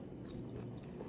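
Close, quiet chewing of a crunchy chicken pasta salad with snow peas, fruit and a creamy sauce, soft crunching bites repeating steadily with no talking.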